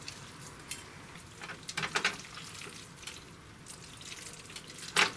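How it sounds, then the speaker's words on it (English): Starchy pasta water trickles from a ladle into a carbonara in a home kitchen, a faint, quiet liquid pour with a few soft splashes and drips and no talk. "I am going to add a little bit of pasta water."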